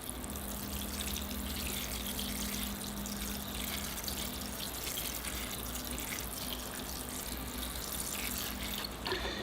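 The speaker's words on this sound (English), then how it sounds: "All right, give them some water." Tap water runs steadily and loudly for the full stretch, a continuous broadband rush and splash as it pours over freshly planted bonsai seedlings in a nursery, with no voices.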